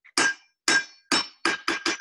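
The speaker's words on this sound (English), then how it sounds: "by the way, watch this hammer." Blacksmith's hammer striking an anvil during a ranch forge demonstration, six bright ringing metallic clangs with bouncing rebound, the first three evenly spaced and the last three quicker, loud and close with no talk.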